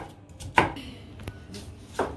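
Vegetables being finely chopped brunoise-style, a few distinct knife knocks on a board spaced irregularly over a couple of seconds, fairly close and moderate in level, with no speech.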